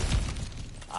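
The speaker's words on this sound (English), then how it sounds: "back to smashing through things for fun and profit" Ground cracks and breaks apart under a heavy blow in the video game God of War, a short close crunching shatter with a low thud at the start, heard alone.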